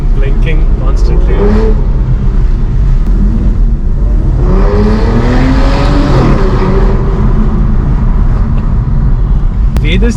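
Aston Martin DB9 with a V12 engine driving, a loud steady engine drone that rises in pitch mid-clip as it accelerates, with road and tyre roar underneath throughout.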